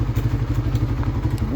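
A Suzuki Raider Fi 150 motorcycle engine idles steadily up close, a loud, even, rapid low-pitched chug with light mechanical clatter and no break throughout.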